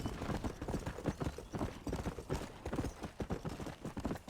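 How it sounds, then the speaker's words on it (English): A horse gallops in Red Dead Redemption, a fast, steady run of close, loud hoofbeats on dirt with no talking. "tapping B allows me to gallop, and that reduces the stamina of my horse"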